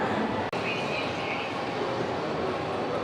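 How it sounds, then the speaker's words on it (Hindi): A small amusement-park ride train at Jurassic Park in Gurugram rumbles along in a continuous steady wash of noise, close and fairly loud. "okay so mamma and Ivan are going for a train ride right"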